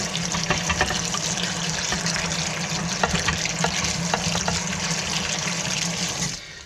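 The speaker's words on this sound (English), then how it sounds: "get some hot water in there, get all the stickiness off of my fingers from the tomatillos." Hot water runs from a kitchen sink tap in a steady, close, broadband rush with light splashing against dishes, continuous until it cuts off near the end.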